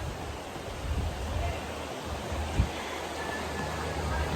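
Rain falls outdoors in a steady, soft hiss with a low rumble underneath and a single small thump, continuous and fairly quiet.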